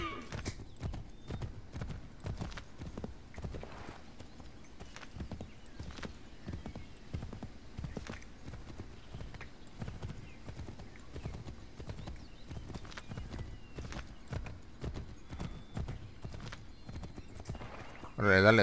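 Horse hooves clip-clop steadily and evenly through a ride in the game Assassin's Creed III, close and fairly loud, with a short burst of a horse's whinny near the end and talk over parts of it.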